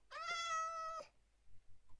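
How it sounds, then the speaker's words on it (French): A cat gives one clear, drawn-out meow lasting about a second, close and fairly loud, followed by a few faint soft thumps in an otherwise quiet room. "Oh le chat, tais-toi."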